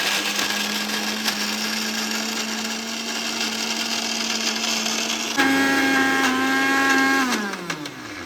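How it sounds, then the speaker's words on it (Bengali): An electric mixer grinder whirs steadily as it blends jackfruit seed pieces in a mixing jar, its motor jumping to a higher, louder pitch partway through before winding down at the end. "ব্লেন্ড করে নেব।"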